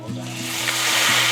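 Sauce poured into a hot pan over seared food, giving a loud steady sizzle and bubbling that swells slightly toward the end, with faint clinks of cookware.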